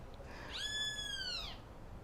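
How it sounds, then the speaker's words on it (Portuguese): A small bird in a garden gives a single clear, whistled call lasting about a second, standing out over quiet background hiss. "Olha que lindo passarinho cantando. Vocês ouviram?"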